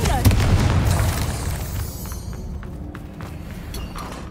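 Confringo blasting spell detonating in Hogwarts Legacy, a loud booming burst at the start with a rumbling low-end tail that slowly fades, followed by scattered faint pops and crackles.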